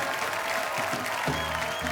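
Studio audience applause on The Kapil Sharma Show, a Hindi comedy talk show, greeting arriving guests: a dense, steady burst of clapping from a large crowd lasting about two seconds.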